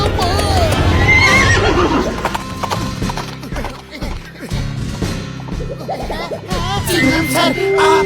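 A horse in the animated series Motu Patlu neighs loudly, and its hooves clip-clop in quick, busy cartoon rhythm, mixed with a crashing thump and other lively effects.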